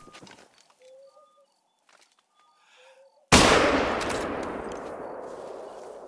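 A single loud rifle shot booms out at a rabbit during a night hunt in TheHunter: Call of the Wild, ringing off into a long decaying echo after a quiet stretch of faint bird calls.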